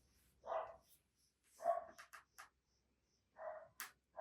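A dog barks a few times at a distance, in separate short bursts with quiet gaps between them.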